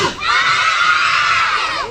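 A crowd of children at an outdoor gift-giving event shouts together in one loud, sustained burst lasting more than a second, close and boisterous.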